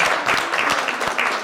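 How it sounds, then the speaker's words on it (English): A brief burst of audience applause after a conversation with authors on capitalism, steady dense clapping at a fairly close distance. "Clap it up for that."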